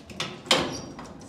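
An elevator door being forced open with a rescue tool during a training exercise: a few short scraping, sliding bursts, the loudest a rough metallic rasp that trails off, at moderate volume with no talking.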